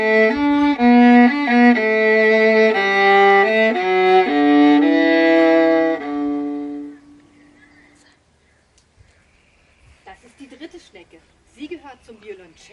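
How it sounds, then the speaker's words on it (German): Viola, a larger and deeper-voiced relative of the violin, plays a bowed melodic line of sustained and shifting notes for about seven seconds, close and clear, followed by a quiet stretch and then a voice speaking. "Die Viola ist genauso gebaut wie die Violine, aber größer und hat deshalb einen tieferen Klang."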